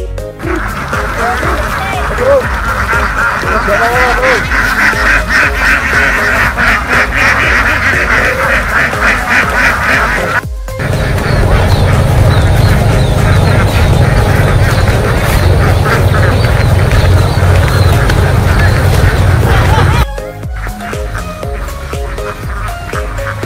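Ducks quack steadily in a noisy, crowded chorus, loud and close, continuing without a break.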